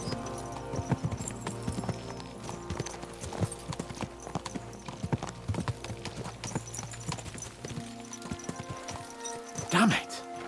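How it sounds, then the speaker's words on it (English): Horses gallop in Kingdom Come Deliverance II with a quick, steady clip-clop of hooves running nearly throughout, a louder burst near the end, and a voice talking over the hoofbeats. "Let's really spur these horses on, eh?"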